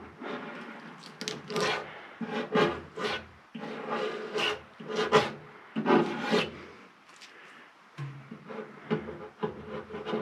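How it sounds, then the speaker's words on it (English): An X-Acto blade scraping sticky residue off primer-bound parts, a series of short raspy scrapes in an irregular rhythm, close and alone. "the X-Acto blade seems to be working pretty good."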